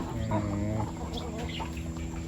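Fighting-breed roosters clucking and calling close by on a Thai rural farm, a short burst of throaty fowl sounds over a low background hum.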